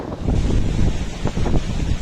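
Strong wind buffets the microphone over a steady roar of heavy surf at a pier on a rough sea crossing toward Burias Island, a continuous loud wash with no voices.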